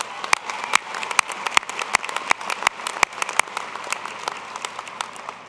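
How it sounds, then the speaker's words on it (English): Audience applause fills a university winter commencement ceremony, steady clapping from a large crowd with sharper individual claps standing out, sustained throughout without speech. "let's also give them a round of applause."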